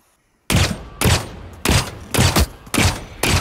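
Bursts of rapid gunfire in the video game The Cycle: Frontier, firing from the Basilisk weapon, several loud close volleys separated by brief pauses, with no talk.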